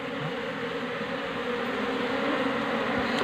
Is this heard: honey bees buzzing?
yes